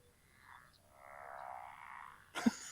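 Frogs croak outdoors at night, a faint, drawn-out chorus rising and falling in the distance, ending with a brief closer burst of sound.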